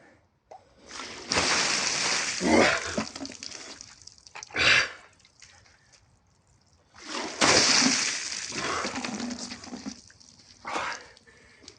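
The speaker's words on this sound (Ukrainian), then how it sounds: "обливається водою" A person douses themselves with cold water in two big bursts, each a loud splash and splatter followed by dripping and trickling, with quieter gaps between the pours.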